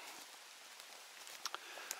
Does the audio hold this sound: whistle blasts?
no